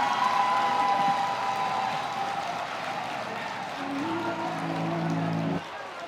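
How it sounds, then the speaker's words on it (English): Audience applause for Esteem Learning Center at a 25th anniversary student presentation, a steady wash of clapping that fades slightly, with a sustained tone and a brief musical note near the end. "A round of applause for Esteem Learning Center"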